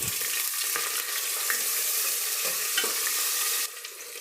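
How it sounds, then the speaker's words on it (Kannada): Two sliced onions frying in a pan with whole spices and a bay leaf give a steady, close sizzle with a few soft stirring scrapes, no voices. "ಈರುಳ್ಳಿ ಫ್ರೈ ಆಗ್ತಿದೆ"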